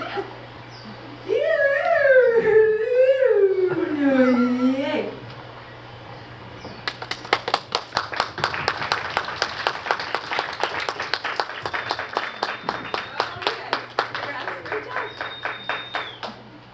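Audience applause at a nonbinary community event, many hands clapping steadily in a dense, sustained wash that fills the room, following a stretch of speech over a low background hum.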